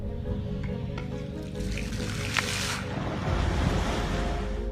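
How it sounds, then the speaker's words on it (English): Water tipped from a bucket splashes into a Florida river as a man bails out his boat, a continuous rushing, sloshing wash with a brief sharper splash midway, fairly close and with no voices. "every time the water from the bucket hit the river, a sudden disruption broke throughout"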